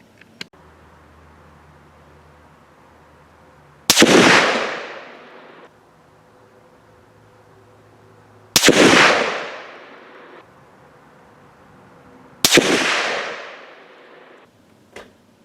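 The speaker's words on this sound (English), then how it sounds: "Let's go back and watch the first 3 shots over again" Three sharp, loud gunshots from a Mosin-Nagant rifle firing 7.62x54R handloads crack out several seconds apart, each followed by a booming outdoor echo that decays over a second or two, with quiet pauses between shots.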